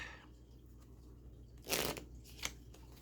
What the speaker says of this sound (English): So shuffle the first deck.